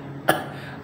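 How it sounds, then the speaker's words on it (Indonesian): A single short cough, close and sudden, over quiet background noise. "Aduh batuk guys."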